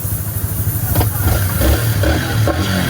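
A Yamaha R15 V4 motorcycle engine, freshly reassembled after repair, starts on one press and runs at a steady idle, with a low throbbing exhaust and a few light mechanical clicks close by.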